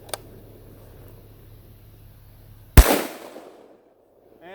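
A single sharp rifle shot cracks out loud and close in sub-zero winter cold at an outdoor chronograph setup, firing a 6.5 Creedmoor or 7mm-08 Remington with 140-grain Federal Fusion ammunition, its report quickly decaying after a quiet lead-in.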